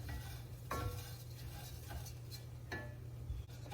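Jasmine rice tossed and stirred in a pot for congee, soft scraping and gritty stirring strokes with a few light clinks over a low steady hum, close and fairly quiet without talk.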